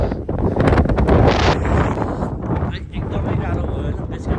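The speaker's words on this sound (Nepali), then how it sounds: "यस्तो हावा छ" Strong wind on a mountain trek roars loudly and continuously across the microphone, a heavy buffeting rumble with gusts that swell and ease.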